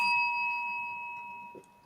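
A loud bell rings once with a clear sustained tone that slowly fades over about two seconds, accompanied by a few soft background noises near the end.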